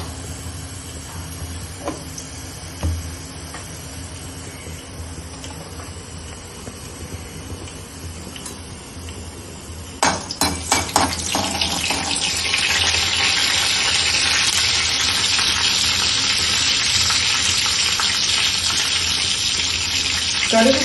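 Mustard seeds spluttering in hot oil for South Indian sambar, a quiet pan at first, then a sudden burst of dense crackling and sizzling that keeps going, steady and fairly close.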